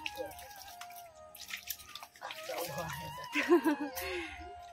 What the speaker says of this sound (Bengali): গোড়ায় জল দে, পুরোটা ভিজে।